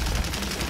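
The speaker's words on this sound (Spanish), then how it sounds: "Demasiados enemigos disparando." Rapid gunfire crackles from enemies in the video game Paladins, a dense, loud burst of overlapping shots lasting well under a second.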